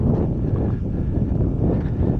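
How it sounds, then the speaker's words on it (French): Light wind blows across the open Hardangervidda plateau, a steady low rushing with soft buffeting on the microphone, continuous and unbroken with no voices. "Un petit vent est revenu."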